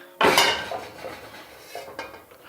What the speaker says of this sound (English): Gonna grab myself the wok pan.